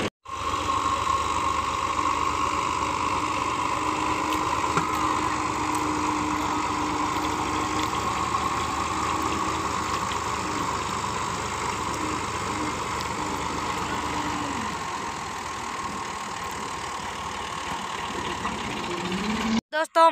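A tractor engine runs steadily and fairly close throughout, a continuous mid-pitched drone with slight knocking, heard while preparing farmland for wheat sowing in Pakistan.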